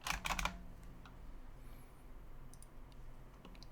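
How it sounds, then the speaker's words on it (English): Computer keyboard typing at a desk: a short quick burst of close keystroke clicks, then a quiet room hum with a few faint scattered taps. "Why don't I just type it in?"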